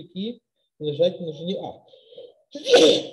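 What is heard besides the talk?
sneeze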